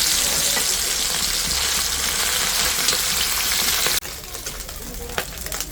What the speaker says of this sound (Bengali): এখন পুঁটি মাছগুলি ভেজে নিই।